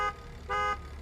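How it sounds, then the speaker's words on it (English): Two short blasts of a deep, brassy truck horn from a RAM 3500 in American Truck Simulator, the second longer, sounding close and loud against a quiet engine hum. "What's the horn sound like?"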